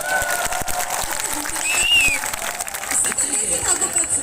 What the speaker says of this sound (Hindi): अगर बात अच्छी रहेगी तो जोरदार ताली बजाओ